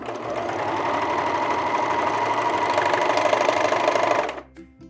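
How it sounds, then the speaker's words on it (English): A sewing machine stitches a short neck band seam in a rapid, steady mechanical whir for about four seconds, close by, then stops abruptly with a few small clicks. "we are gonna sew up this little short seam here"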